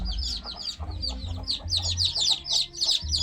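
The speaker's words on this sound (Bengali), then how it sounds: "বাচ্চাগুলা এখানে যায় কাতরাচ্ছে মায়ের জন্য" Newly hatched chicks calling for their mother hen indoors under a lamp on a cold day, a rapid run of shrill repeated cheeps, close and fairly loud, continuing in clustered bursts over low background hum.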